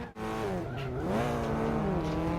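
A race car skids in Forza Motorsport 5 on Xbox One, a loud sustained engine note with tones that bend and slide as the tires squeal, steady and close with no crash impact clearly standing out.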